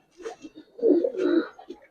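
Giribaz coloring pigeons cooing close by, a soft series of low murmuring coos, with a longer throaty coo in the middle, at moderate loudness and with no talk.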